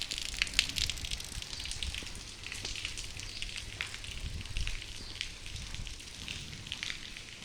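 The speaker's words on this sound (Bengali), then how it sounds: "বৃষ্টি হচ্ছে, সকালবেলা কেউ এখনো উঠে নেই, রাস্তাঘাট সব ফাঁকা।" Rain falling on an empty street in the early morning, a steady, faint hiss of drops with scattered light patters and no voices.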